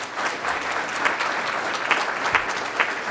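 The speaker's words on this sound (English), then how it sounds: "please join me in another round of applause for our whole first panel" An audience at a hypophosphatemia symposium gives a panel a steady round of applause, dense close clapping with sharper individual claps popping out throughout.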